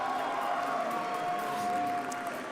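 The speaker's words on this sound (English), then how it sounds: "Let's hear a round of applause for Montana." Audience applause greeting a top 4 competitor at the Pokémon World Championships VGC event, a steady dense clapping wash sustained evenly throughout with a faint tonal hum beneath.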